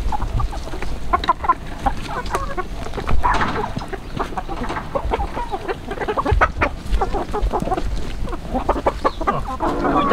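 Chickens cluck at a rural countryside homestead in November, a busy, continuous chorus of close clucks and squawks with outdoor background noise.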